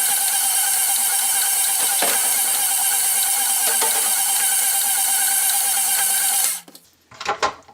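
Electric mixer beating butter, sugar and eggs for peppermint bark cake balls: a loud, steady motor whine with faint rhythmic knocking of beaters, cutting off near the end before a few brief clatters, no talk.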